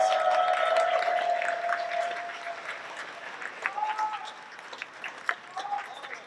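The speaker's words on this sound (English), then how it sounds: "Let's give all of us a round of applause." Audience applause at a Houston community progress-report gathering for Buffalo Bayou East, a dense wash of clapping that starts full and gradually thins out, with a voice and a few louder individual claps standing out toward the end.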